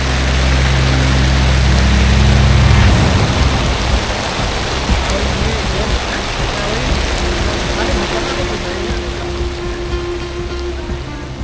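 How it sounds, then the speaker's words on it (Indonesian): Rain falls steadily on a mountain campsite at Gunung Prau, a loud, dense hiss of drops throughout, with a low rumble fading out early and a faint hum later. "Di ketinggian seperti ini, hujan memang sering datang tiba-tiba"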